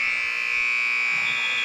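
A buzzer sounds at the end of the third quarter of a girls' high school basketball game, Lakin Lady Broncs against Deerfield: one loud, steady electronic tone held for nearly two seconds with faint crowd murmur underneath.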